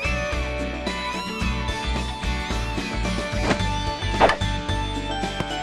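Cat meows from the Little Busters visual novel game, a few short mewing cries rising over busy game music, with thuds and chopping hits mixed in around the louder middle section.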